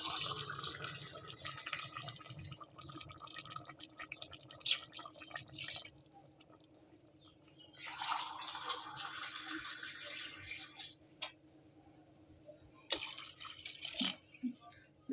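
Water trickles and splashes as glasses of it are poured into a cooking pot for rice, in several short bursts of pouring separated by quieter gaps, close by.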